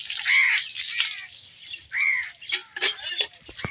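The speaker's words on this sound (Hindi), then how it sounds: "ये देखो, ये ऊपर बैठे हुए हैं कौवे" Crows sit high in trees in a Pakistani village with guava trees and caw in a series of harsh, separate calls, some louder and nearer, with short gaps between them over a quiet outdoor background.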